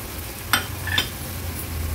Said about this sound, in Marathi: व्यवस्थित मिक्स करून घेतलंय जवळा वगैरे आपण मसाल्यामध्ये